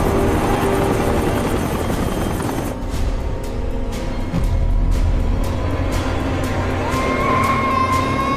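A rescue helicopter getting ready for takeoff in an action film, its rotor throbbing loud and close with a rhythmic thump while a turbine whine rises and engine noise fills the background.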